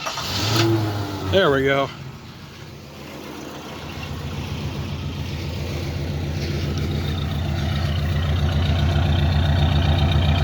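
A 1975 AMC Matador Brougham station wagon engine cranks briefly and catches, then settles into a steady, rumbling idle that builds slightly louder over several seconds, with a short spoken remark near the start.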